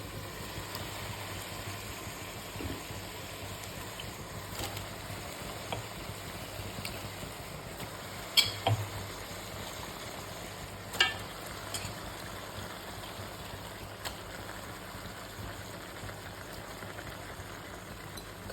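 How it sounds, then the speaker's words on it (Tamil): Cleaned meat pieces tipped into a pan of sautéed onions and fried, stirred with a few light clinks and a faint, steady sizzle under low kitchen hum, no talking. "இப்போ நம்ம க்ளீன் பண்ணி வச்சுருக்க ஆட்டுக்கோழி இதில் சேர்த்துக்கலாம்."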